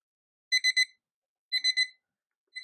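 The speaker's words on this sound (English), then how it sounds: "How do I make it stop beeping?" A kitchen timer beeps in quick bursts of three sharp electronic tones, repeated at roughly one-second intervals, clear and alone with no talk over it.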